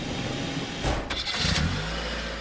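The pumpkin car in the video game Lego Batman 2 DC Super Heroes starts up with a loud rumbling engine burst that settles into a low idle drone. Nobody speaks over it.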